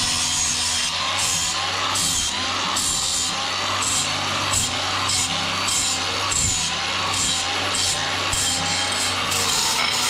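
An angle grinder with a flap wheel grinding metal for a DIY off-road rock slider build, a loud continuous whine that rises and falls in rhythmic passes over a low motor hum.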